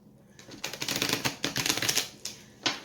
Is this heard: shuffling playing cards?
yes